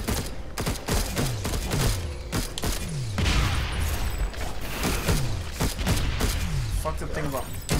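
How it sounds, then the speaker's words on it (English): Mortar fire in the co-op video game Alienation, a rapid series of booming launches with descending whistling tones, repeated many times in quick rhythm and loud throughout, with someone talking over it. "Fucking mortar, I hate that"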